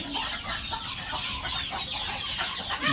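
A flock of domestic village chickens clucking busily while they feed, many overlapping calls at close range forming a dense, continuous farmyard chatter.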